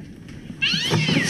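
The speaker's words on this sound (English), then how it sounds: "It was just a cat." A cat lets out a loud, drawn-out meow that starts suddenly partway through, close and alone with no talk over it.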